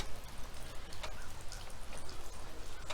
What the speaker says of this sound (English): It's 15 degrees out and it's starting to rain.